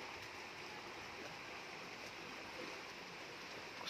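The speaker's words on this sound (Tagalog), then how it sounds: "kusog man di ang tubig diri sa among ubos" Strong floodwater rushing past below a house, a steady broadband roar of fast-moving water, faint and continuous without a break.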